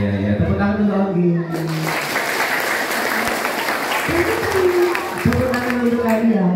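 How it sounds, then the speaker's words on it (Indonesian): An audience claps loudly in sustained applause during a religious gathering, with voices speaking over the clapping at the start and again near the end. "Tepuk tangan dulu lagi."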